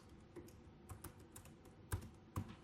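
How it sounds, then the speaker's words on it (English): Quiet keystrokes on a computer keyboard as a short phrase is typed, a run of soft, uneven taps with two louder presses near the end. "I'm going to type in Merry Christmas"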